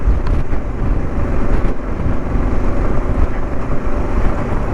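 A 2022 Kawasaki KLR650 motorcycle rides on deep loose gravel on a mountain road, its engine drone blending with heavy wind buffeting and rumbling crunch in a loud, continuous roar.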